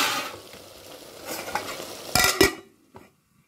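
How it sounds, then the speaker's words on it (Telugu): Ginger frying in a pan for a curry, a soft sizzle under a few scraping stirs and clinks of a spoon against the pan, ending in near silence. "దీన్ని కూడా పచ్చివాసన పోయేదాకా 2 నిమిషాలు వేయించుకున్నాం"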